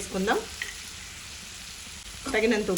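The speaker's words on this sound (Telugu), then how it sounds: "మంచిగా ఉప్పు అంతా ముక్కలకి కలిసేటట్టు కలుపుకుందాం" Wild gourd pieces sizzle in a pan as salt is stirred into them, a steady close frying hiss with brief vocal sounds at the start and end.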